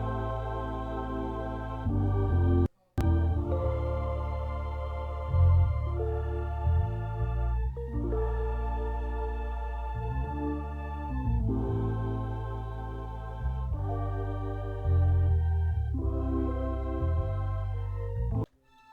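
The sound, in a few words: E-piano chords, choir, bass and strings playing together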